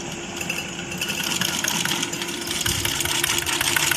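A hand-wheel sewing machine turned forward runs with a fast, even mechanical clatter, near and continuous, with no voices.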